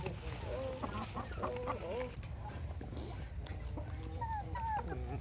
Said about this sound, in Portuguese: Todas as galinhas aqui são de gigante.